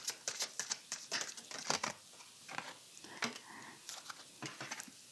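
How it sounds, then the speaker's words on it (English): Tarot cards are shuffled close up, giving quiet, crisp bursts of riffling and rustling in irregular clusters with short gaps between them and no speech. "I'm shuffling your 3D cards now."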